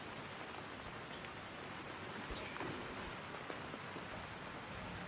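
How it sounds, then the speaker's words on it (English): Steady rain falling in Sydney near a chicken coop, a soft even hiss of drops pattering on surfaces, fairly faint with no voices. "It's raining in Sydney."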